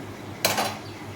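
A lid drops onto a pot of vegetable chowmein with one sharp metallic clank, close and clear, then rings briefly before fading into quiet kitchen background.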